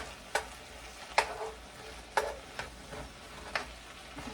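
Venison sizzles in a frying pan under a steady, faint hiss. Several sharp clatters of stirring break through it, roughly one every second. No one speaks.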